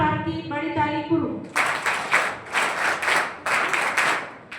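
Audience at a 12th-grade board exam student felicitation ceremony breaks into loud, rhythmic, pulsing applause right after a voice stops, the claps swelling in regular waves.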